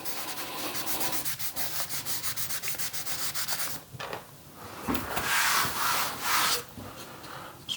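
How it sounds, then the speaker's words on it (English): A shirt rubbed back and forth across vinyl plank flooring, a fast repeating scrubbing swish, close and loud, then a few slower irregular wipes, with no voices. "Just trying to wipe that away with my shirt."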